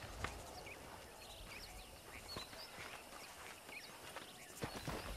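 Horse hooves clip-clop steadily on open ground in the Western game Red Dead Redemption, with birds chirping in the background and no one talking.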